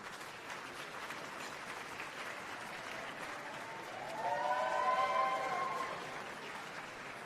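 Applause for the Board of Governors fills a banquet hall at the Mid-America Emmys awards gala. The steady, somewhat distant clapping swells midway, where a brief whoop or cheer rises above it.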